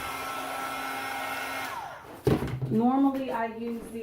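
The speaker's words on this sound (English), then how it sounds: "with the heat tool, which is melting the image." Steady high-pitched whir of a heat tool melting embossing powder on a handmade card, running continuously for about two seconds before cutting off, followed by a soft thump and close voiced speech.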